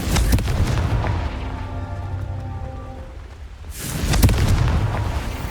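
A Confringo fire spell detonates in the video game Hogwarts Legacy, a loud booming blast at the start that rumbles for a few seconds, followed by a second heavy burst near the end.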